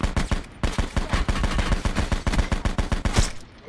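Rapid automatic gunfire in the Black Ops 4 Blackout battle royale game, a dense, loud, continuous stream of shots with barely a pause before it cuts off near the end.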